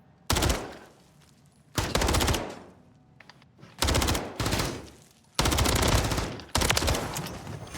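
Automatic gunfire rattles in a Call of Duty MW3 gunfight, coming as loud rapid bursts separated by short pauses, five or six sustained volleys in all.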